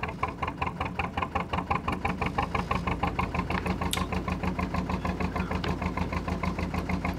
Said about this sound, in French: On entend le moteur qui est probablement là, à sa plus basse